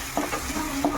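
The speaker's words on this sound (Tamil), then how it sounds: "உப்பு சேர்த்து வதக்குங்க" Onion and curry leaves being sautéed with salt for mutton sukka, a steady low sizzle in the pan with a few soft stirring scrapes over one brief second.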